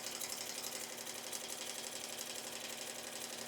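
An embroidery machine stitches a zigzag during in-the-hoop project work, a steady, fast mechanical whirring and clatter that continues evenly and close by with no talking.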